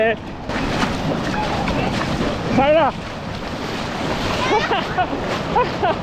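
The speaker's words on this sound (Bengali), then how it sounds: "আপনারা আওয়াজ পাচ্ছেন পানির আওয়াজ মানে এই পানির আওয়াজটা শুনতেই ভালো লাগে" Ocean surf rolls at Towradgi Beach near Sydney, a loud, continuous wash of waves with heavy wind buffeting the microphone, while people talk and call out over it.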